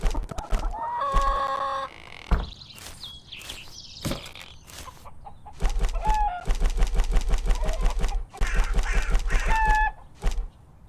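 Chickens cluck and a rooster crows in the video game We Harvest Shadows, with repeated bursts of busy clucking and crowing calls over several seconds, broken by short pauses and thuds.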